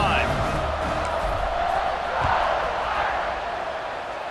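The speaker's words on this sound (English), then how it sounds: "this crowd is feeling themselves after that last drive" Stadium crowd in the College Football 26 video game, Notre Dame versus Texas, roars steadily as a broad wash of cheering and whoops, loud and sustained throughout with a slight swell midway.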